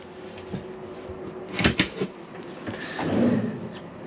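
A drawer in a Chausson 640 camper van slides open with a quick rattling thump and a couple of sharp clacks, followed by a soft scraping slide.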